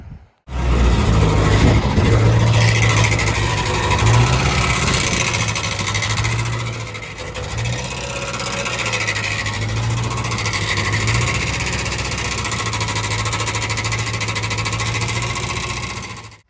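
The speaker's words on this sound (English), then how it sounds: "We just started the tractor" A tractor engine just started, with a broken fan tensioner bolt, running steadily with a loud low rumble and continuous mechanical rattle, close by and with no talk over it.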